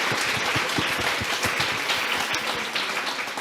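An audience at a gala applauds, a dense wash of clapping from many people held at a steady, moderate level throughout.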